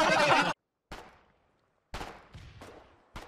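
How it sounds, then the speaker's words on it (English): Gunfire from a barge at sea in the Foxhole war game: a few sharp, loud reports in separate bursts, each with a decaying tail, spaced by short silences. "they have a barge out here shooting people"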